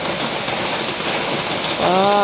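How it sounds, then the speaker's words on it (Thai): Heavy rain pouring at night outside a pig pen, a dense, steady wash of noise close by, with a voice briefly speaking over it near the end. "ฝนตกหนักแฮงพี่น้องบรรยากาศข้างนอก"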